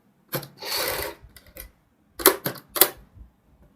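A sewing machine stitches piping onto a kurti neckline in short, separate bursts of rapid mechanical whirring and clatter, close up, with brief pauses between runs.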